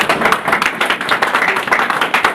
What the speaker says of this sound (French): Tu peux acclamer la parole de Dieu.